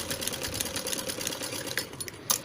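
A sewing machine stitching a blouse seam, a fast continuous mechanical whirr of needle strokes running steadily close up, slowing briefly near the end.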